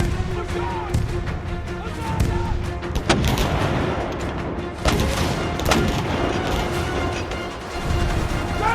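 Cannon artillery fire in a Civil War battle film, heavy booms and gunfire layered over a dense, continuous battlefield roar with sharp bursts near three and five seconds, plus faint shouting voices in the mix.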